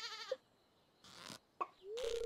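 Goats in the farming video game Stardew Valley give short synthesized bleats, a few separate calls with quiet gaps between them, heard alone without speech.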